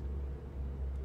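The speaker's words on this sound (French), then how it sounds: "Ça, c'est un bruit de moteur." Engine noise in the Mad Max video game: a steady low rumbling drone that holds evenly throughout, with no other distinct sounds on top.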